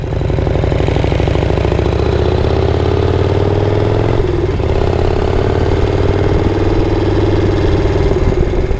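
A custom stroker Shovelhead Harley cruises country roads, its engine a loud steady throbbing rumble close by with a brief dip in the middle, springer front fork rattling along underneath.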